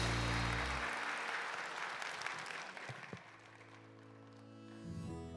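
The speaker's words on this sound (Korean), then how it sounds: "다시 한번 뜨겁게 박수해 주시기 바랍니다" A church congregation claps warmly at a Sunday worship service, sustained applause that swells early and then slowly thins out, with a low sustained tone underneath and no speech.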